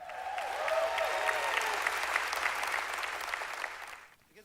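Congregation applauding in a church campus service, a steady wash of dense clapping that swells and holds for about four seconds before fading out, with no talking over it.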